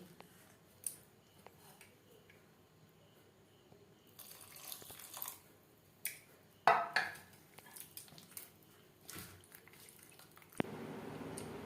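Patishapta pitha batter made with palm fruit, semolina and added milk being stirred in a bowl, giving sporadic wet, squishy sloshing sounds in short bursts, fairly close and soft with quiet gaps between.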